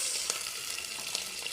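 Sardines frying in a pan for a simple udong noodle dish, giving a steady, close crackling sizzle with a few brief louder pops and no talking.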